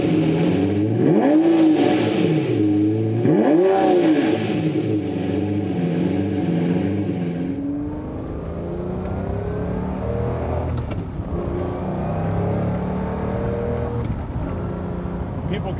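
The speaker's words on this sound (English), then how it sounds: "A howling V12 is something that nothing else can really match." A Lamborghini LP640 with a gated manual and V12 engine revs hard in rising, howling pulls, then settles into a rumbling drive as it is shifted and cruises.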